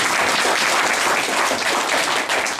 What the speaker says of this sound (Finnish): No annamme taputukset tässä vaiheessa